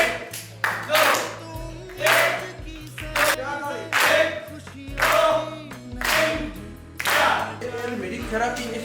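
Children clapping along to a spoken count during a group activity for children with intellectual disabilities, loud rhythmic bursts of claps about once a second, with an adult voice talking over them throughout.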